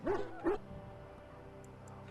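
A dog in the fantasy video game Dragon Age: Origins, at the Ostagar encampment, gives two or three short yelping barks with pauses between, fairly close, against a low ambient drone.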